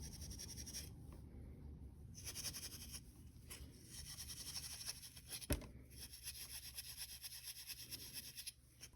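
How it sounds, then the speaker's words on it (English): Steel wool scrubs back and forth over the smooth painted surface of thrifted miniature furniture, a faint close scratchy rubbing in uneven strokes with one sharper knock partway through. "I don't think the paint will stick unless we use this steel wool."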